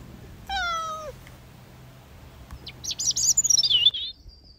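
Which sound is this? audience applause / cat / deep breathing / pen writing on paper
cat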